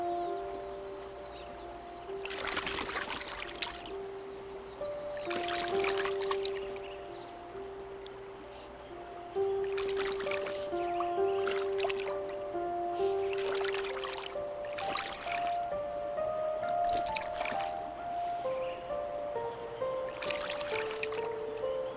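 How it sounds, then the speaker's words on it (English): Birds bathing in clean water, dipping their heads and upper bodies in, give a series of splashy bursts at irregular intervals over steady background music-like tones, fairly close and moderately loud. "The way of bathing is put their head and upper part of their body into the water and get wet"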